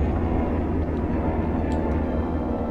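Airplane engine drone in the video game Dying Light: The Following, a steady loud low rumbling roar that holds level throughout, with no voices.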